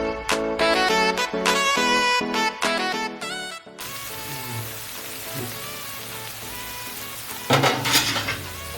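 Shakshuka simmers in a covered pan, a steady soft sizzle and bubbling that follows a few seconds of music and swells briefly louder near the end.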